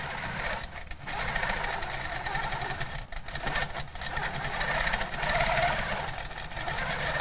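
Longarm quilting machine stitching a pantograph pattern, a steady mechanical whirring hum that runs continuously and loudly throughout, with slight surges and dips as the machine is guided along the curves.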